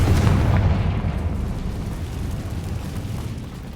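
A Confringo blasting spell goes off in the game Hogwarts Legacy: one loud, deep explosive boom at the start, then a rumbling roar that slowly fades, with no talking.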